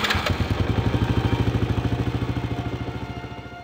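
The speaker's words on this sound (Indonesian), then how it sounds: "sekali starter, motor tersebut menyala" A motorcycle engine cranks briefly and catches on the first attempt, then settles into a steady, close, rhythmic idle with a pulsing chug that slowly eases in loudness.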